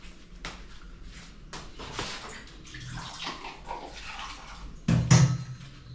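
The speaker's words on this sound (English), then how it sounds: "So what we need to do is we add water." Water poured over raw, unsoaked lentils in a cooking pot, a splashing pour with clattering handling noises and a louder gush near the end.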